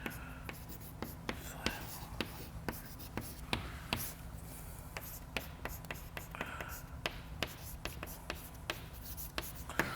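Chalk or marker scratches and taps steadily across a lecture board in a continuum mechanics class, a brisk run of short strokes repeating every half second or so, close and fairly quiet over low room hum.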